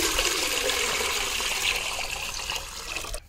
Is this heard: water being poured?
yes